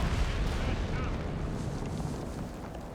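Whiz-bang rocket artillery firing in the Company of Heroes 3 strategy game, a rumbling barrage of booming blasts that is loudest at the start and tails off slowly, with no talk over it.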